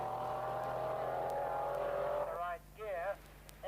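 A Porsche race car accelerates away at the Shelsley Walsh hillclimb, its engine a steady rising drone under a commentator's voice, then fading as the car climbs into the distance.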